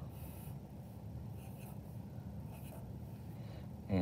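Marker strokes scraping across paper while sketching an animation figure, a steady close scratchy drawing sound running continuously, with a brief louder rustle at the end.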